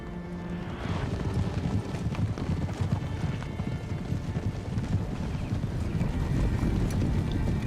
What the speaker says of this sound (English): The horses panicked and they're running off.